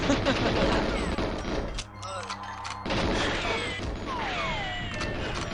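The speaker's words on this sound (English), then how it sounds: "Oh, I heard a grenade." A grenade explodes in the video game GoldenEye 007 with a sharp, loud burst, followed by rattling gunfire and tumbling debris noises inside a busy game soundscape.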